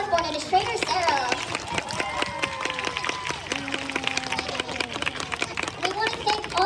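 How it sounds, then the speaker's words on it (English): An audience at a sea lion show at the New York Aquarium claps for the sea lion Osborne and its trainer, a steady scatter of applause mixed with chattering children and crowd noise. "Let's give one last round of applause for Osborne and his trainer"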